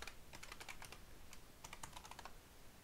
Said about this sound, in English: And then I'm going to type